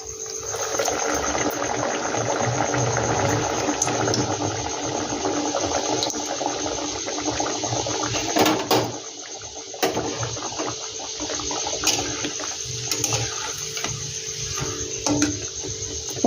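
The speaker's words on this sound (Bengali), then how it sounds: "একইভাবে আমি সবকটা ভেজে নেব" Veg mughlai pieces frying in hot oil in a home kitchen, giving a steady, dense, close sizzle and bubbling that continues for the whole stretch with small crackling pops.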